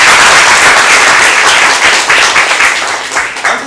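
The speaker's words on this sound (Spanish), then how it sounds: "Fuertes los aplausos para todos ustedes." Loud, dense audience applause at a school debate event, a sustained burst of many hands clapping close by that thins and fades slightly toward the end.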